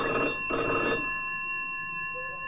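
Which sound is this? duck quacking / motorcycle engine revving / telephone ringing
telephone ringing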